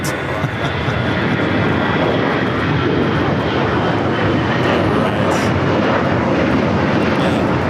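Airliner taxiing at LAX, its engines producing a loud, steady broadband roar that holds for the whole stretch, close and continuous with no clear talk over it.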